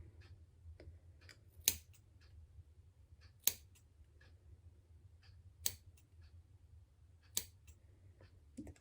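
Scissors snip wavy hair in a quiet room, with four crisp, close cuts spaced about two seconds apart and fainter small clicks of the blades between them, no voices.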